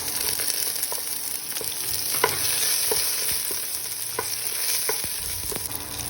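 Garlic and onion sauté in oil in a pan, a soft steady sizzle running under a series of light clicking spatula stirs spaced through the whole stretch.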